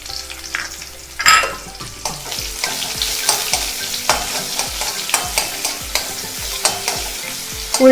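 Chopped shallots with broken dried red chillies fry in hot oil for pumpkin and bean erissery, a loud close sizzle broken by a steady run of rhythmic spatula scrapes and taps against the pan.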